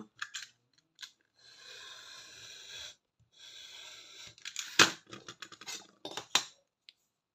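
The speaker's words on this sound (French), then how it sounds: "vous venez couper un morceau pas trop large" Scissors snip through a piece of material in short, crisp cuts, with two longer sustained slicing strokes followed by a cluster of quick clicks and snips, close and clear with no talk.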